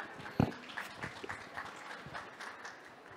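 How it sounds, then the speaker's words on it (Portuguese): Thin, modest applause from a small audience at a coffee festival event, with one sharp knock near the start and soft scattered clapping that tapers off quietly. "uma salva de palmas para essa maravilhosa."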